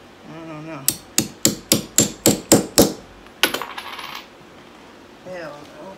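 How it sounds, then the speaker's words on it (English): A sofa leg is hammered into its hole with about eight sharp, evenly spaced blows, then a few quicker lighter taps and a faint scrape, close by. "I'm hammering it in."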